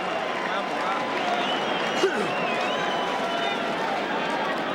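Boxing crowd at the Forum during a rally fight between Michael Carbajal and Humberto Gonzalez, a continuous roar of cheering and shouting from a packed arena with a commentator talking over it.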